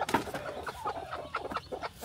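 A hen in a farmyard gives a string of short, nasal clucks while laying an egg, close by with faint background noise.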